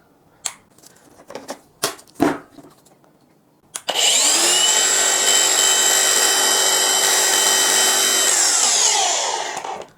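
A Dongcheng DCSP02-180 Z electric polisher with a foam pad runs at up to 3000 RPM. A few sharp handling clicks come first, then a loud, smooth, steady motor whine holds for about six seconds before winding down.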